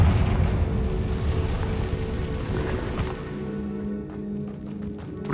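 A Confringo fire spell blast in the video game Hogwarts Legacy: a loud, rumbling, roaring burst that holds for several seconds with a crackling hiss on top, then thins out and fades toward the end.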